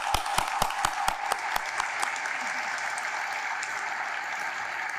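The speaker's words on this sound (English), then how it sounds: "Let's give them a round of applause." A few loud, sharp nearby claps open the clip, then a broad wash of audience applause follows at a law school graduation ceremony and carries steadily to the end.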